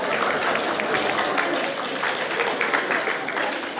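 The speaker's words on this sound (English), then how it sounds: "Students, you may applaud your parents." Students applauding their parents at a middle school winter concert, a dense steady wash of clapping from a large crowd filling an indoor hall, loud throughout with a few voices mixed in.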